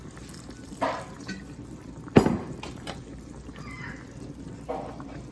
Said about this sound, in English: I'm going to go ahead and add this apple cider vinegar.